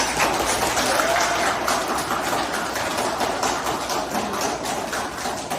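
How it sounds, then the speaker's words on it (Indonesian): A class claps together in a classroom. The applause is steady and mid-loud, rapid and fairly even throughout, with no talking over it. "Tepuk tangan bersama"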